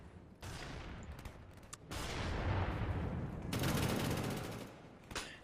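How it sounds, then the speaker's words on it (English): Bursts of FAMAS rifle fire in Call of Duty: Black Ops, several quick volleys of rapid automatic shots separated by short gaps, loud and close, with some softer distant fire in between. "I just gave away my position by firing my weapon"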